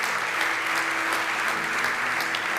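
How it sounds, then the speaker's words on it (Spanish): A church congregation applauds for Jesus during a sermon, a steady, even wash of many hands clapping at moderate distance, continuous throughout with no speech over it. "Fuerte el aplauso a Jesús."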